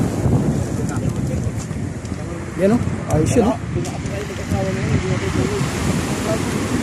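Strong sea waves and gusting wind buffet the microphone out among small fishing boats, a constant rough roar with someone talking over it.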